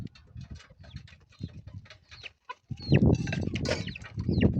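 Chickens cluck and chatter in a close flock in a rural village, with short bursts of fowl calls overlapping and growing busier toward the end.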